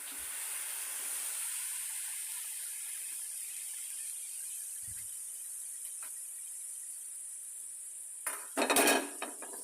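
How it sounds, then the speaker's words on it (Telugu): Finely chopped tomato pieces go into a heated pan, a soft steady sizzle with a faint hiss, a few light clinks, and a brief louder clatter of utensil against pan near the end. "ప్యాన్ కొద్దిగా వేడెక్కిన తర్వాత ఈ సన్నగా తరిగిన టమాటో ముక్కల్ని మొత్తం వేసుకోవాలి"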